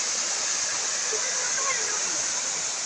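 Water rushing steadily at a village dam, a loud continuous broadband roar with no pauses, heard close throughout.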